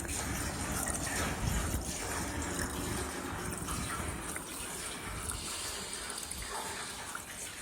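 Gasoline pours into a tank in a continuous splashing, gurgling stream, near and steady for several seconds, with no talking over it.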